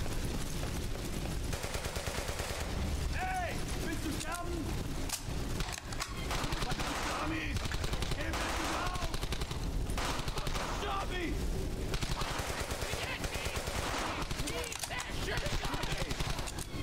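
Sustained machine-gun and rifle fire in the World War II video game Brothers in Arms: Hell's Highway, continuous rattling bursts throughout with shouted voices mixed in among the shots.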